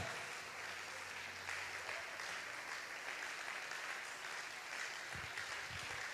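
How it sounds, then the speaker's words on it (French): A worship congregation claps and cheers in praise of the Lord, a faint, continuous patter of applause heard from some distance. "Commence à acclamer le Seigneur."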